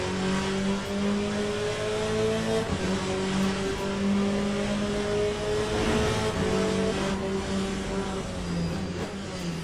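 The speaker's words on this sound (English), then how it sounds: "Faster car approaching, he's racing us for position" Race car engines in Le Mans Ultimate drone loudly and steadily, a faster car closing in behind, with rising and shifting whine as gears change and revs climb, continuous throughout.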